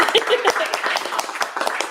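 Scattered hand claps from a small in-person church audience, a steady patter of sharp taps running throughout without a clear break.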